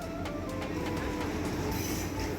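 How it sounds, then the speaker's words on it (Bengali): Trains roll in along a railway platform on the Dhaka to Mymensingh line, a steady rumbling mass of rail noise with faint wheel squeals and metallic clicks, continuous and fairly close, with no talking. "প্ল্যাটফর্মে একের পর এক ট্রেন আসছে"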